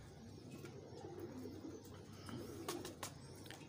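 Rooftop-type domestic pigeons, a crossbred breeder bird with orange feet, give soft low cooing calls with a few brief chirps, faint and somewhat distant against steady background noise.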